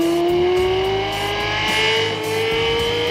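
A Lexus LFA engine screams at high revs like a racing car, a loud, sustained wail with sharp tonal harmonics that climbs slightly and holds without a break.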